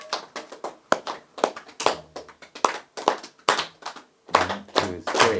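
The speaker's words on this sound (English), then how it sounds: "You can clap also if you want to." Hands clap along in a steady rhythm at a devotional chanting session, sharp claps repeating evenly close by with no talk over them.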